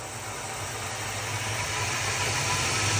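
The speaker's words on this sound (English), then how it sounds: "if I were to start my lathe right now and try to thread it" A metal lathe runs steadily at high speed with no back gear engaged, set up for threading a pen blank, giving a continuous broadband machine hum with a low rumble, constant and fairly loud throughout.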